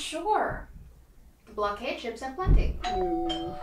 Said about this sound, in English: That's not weapons, that's my doorbell.